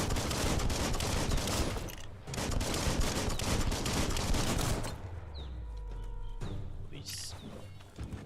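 Biomutant combat with a shotgun-wielding enemy: dense, rapid bursts of gunfire fill the first several seconds, then give way to quieter low rumbling and scattered thuds.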